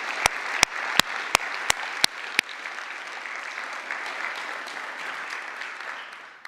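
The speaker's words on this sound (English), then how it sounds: "Big applause to all of them." A conference audience applauds steadily throughout, a dense wash of clapping with a few sharp, loud claps standing out close by early on.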